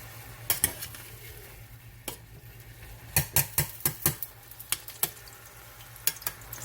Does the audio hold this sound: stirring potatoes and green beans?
yes